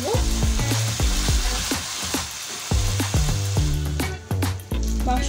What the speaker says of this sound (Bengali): মাংসটাকে এভাবে ভাজতে থাকব আরো 15 মিনিটের মতো, একদম ভাজা ভাজা করব।